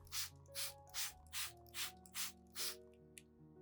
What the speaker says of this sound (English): I also use this solution to mist Zamioculcas plants